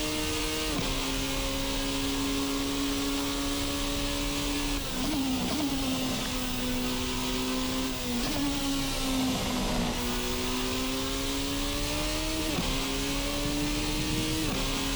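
The engine of a Formula RSS Supreme race car in a sim racing game holds a steady high whine near the rev limiter. It dips briefly at each gear change, then climbs again, loud and continuous with no talk.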